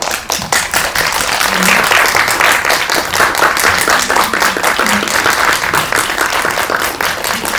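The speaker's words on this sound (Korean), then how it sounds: "들어오시면 큰 박수 부탁드릴게요." A cinema audience at a special film screening talk gives loud, sustained applause as the actors enter, with rapid, dense clapping close by and a low voice faintly audible underneath.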